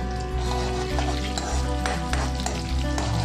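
Cumin seeds, fenugreek seeds and green chilies sizzling in hot oil for a tempering, a dense continuous frying hiss with light stirring and occasional crackles, close up and steady without any voices.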